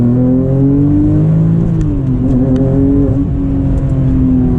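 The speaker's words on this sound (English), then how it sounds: "Let's see if we could do one acceleration." Porsche 996 GT2 accelerating hard from inside the cabin, the engine note climbing steadily and loudly through the gears with brief dips at each shift, strong and continuous throughout.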